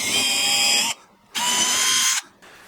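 A handheld power drill bores a hole into a Christmas-themed guitar body on a workbench, two loud whining bursts about a second each with a short pause between, close up and without speech.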